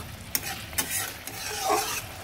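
Bengali doi katla, a yogurt-based katla fish curry, being stirred in a pan over raised heat: a steady low sizzle with a few sharp spoon scrapes against the pan, close and moderately loud with no talking.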